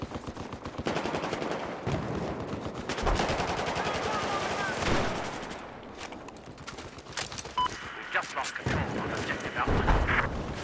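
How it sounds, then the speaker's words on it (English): Rapid shotgun blasts in a video game, with dense, repeated sharp reports in quick bursts, some pauses between volleys and loud clustered firing near the end. A voice talks over it. "I'm using shotguns now"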